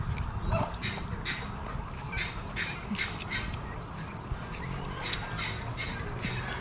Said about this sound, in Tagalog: Ayan yung mga aso ko.